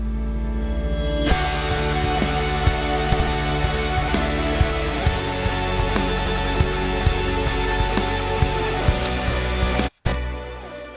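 An ambient music mix built on intimate strings with long, sustained articulation forms a dense, steady wash of layered tones, with faint soft pulses running underneath and a brief dropout near the end.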